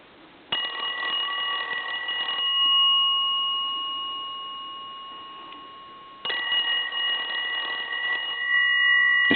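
A PTT Holland rotary telephone's bell rings loudly in two long bursts with a pause between them, a bright, steady metallic jangle close at hand.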